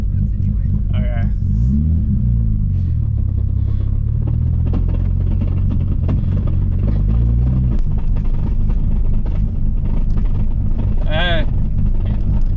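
A 650HP Nissan R32 GTR with a blown third gear on a drag strip, its engine rumbling and revving loudly and roughly throughout, with people talking over it.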